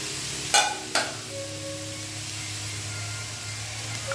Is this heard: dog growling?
no